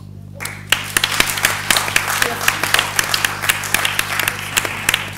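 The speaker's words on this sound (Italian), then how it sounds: "vi pregherei di dargli un applauso" Applause for the Vice Minister at an Italian press conference on rare diseases in the Sala Nassirya, loud sustained clapping from the room starting abruptly after a brief silence, with sharp individual claps standing out over an electrical hum.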